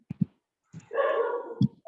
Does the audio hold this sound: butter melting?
no